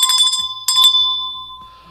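A bright bell rings twice in quick succession, each strike clear and close, and the second ring fades away in a long, smooth decay.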